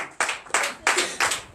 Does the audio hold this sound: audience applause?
yes